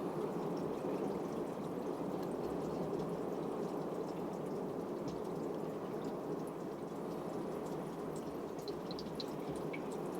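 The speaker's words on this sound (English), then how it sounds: "My wife is running the hose over the top of the car." A garden hose runs water over the roof of a Fiat 500 Sport car, heard from inside as a steady, muffled wash of trickling and splashing that continues evenly throughout.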